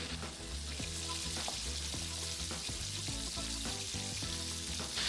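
Tomato paste fries in a pan with pancetta and lard, giving a steady close sizzle with faint stirring scrapes throughout and no voices.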